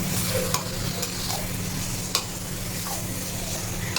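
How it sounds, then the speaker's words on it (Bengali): Chicken stirred through hot spiced oil in a pan, a steady close sizzle running throughout with soft scraping strokes of the stirring spoon at intervals. "এবার এখানে চিকেনগুলো দিয়ে দেবো। করে মিক্স করে নেব"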